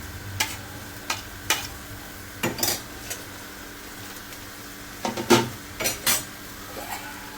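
Ginger, chili, garlic and onion being sautéed in a pan while making chole, with a faint sizzle under repeated clinks and scrapes of a utensil against the pan in irregular bursts.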